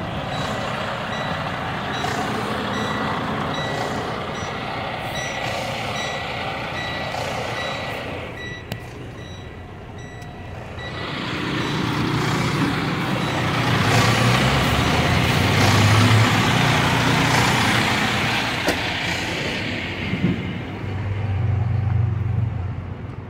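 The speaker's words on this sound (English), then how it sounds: "rocking the trailer with the tractor, from my experience, is the best way." A tractor-trailer truck idles and moves back and forth to free the trailer's tandem pins, its engine rumbling steadily while repeated reversing beeps sound, with the engine swelling louder in the second half.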